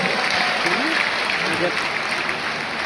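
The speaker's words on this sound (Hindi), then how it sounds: "एक बार चाहूंगा रजत के लिए जबरदस्त तालियां आप सभी लोग बजा दें।" A large audience in an indoor stadium applauds for Rajat at a team celebration, a dense, steady wash of clapping with a voice speaking over it.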